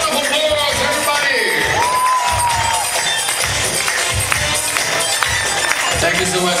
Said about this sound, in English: Have a round of applause, everybody.